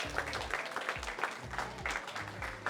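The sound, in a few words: round of applause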